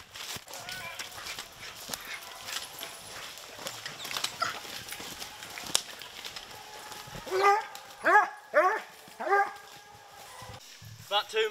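Hunting hounds bay and yelp at a bear holed up in a hole, a busy chorus of barks and whimpers, with sharp close barks standing out near the end and voices shouting over the pack.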